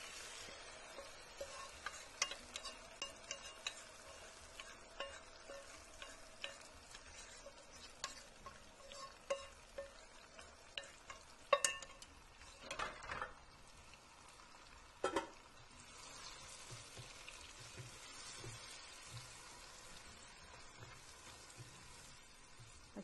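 Mashed eggplant sizzles faintly in a pan while a spoon stirs it, a soft continuous crackle broken by scattered clinks and scrapes, quiet and close.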